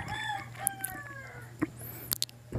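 Several birds call and chirp at Bukidnon zoological park over a steady low hum, with a rooster-like crow and a few sharp, high chirps near the end.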